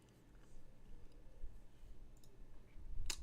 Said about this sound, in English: I tend to enter the orders using keyboard entries.